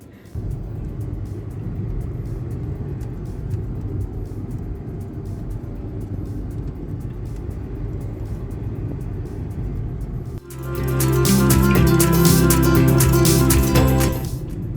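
Volkswagen Vento sedan pulling away and driving, a steady low engine and road rumble that swells into a louder, fuller drone for the last few seconds as it gets moving.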